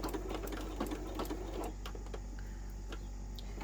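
A sewing machine runs a back stitch with a 1/4 inch seam allowance while making a fabric wallet with card slots, a close steady mechanical whirr with rapid needle ticking that eases off partway through.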